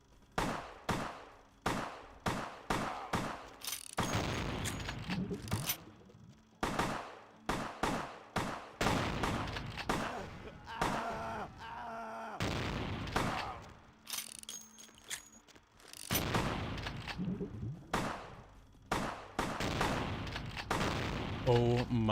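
Gunfire in the video game Vampire The Masquerade: Bloodlines, rapid repeated shots and bursts at close range, some in quick volleys and others spaced apart, with loud booming impacts throughout the fight.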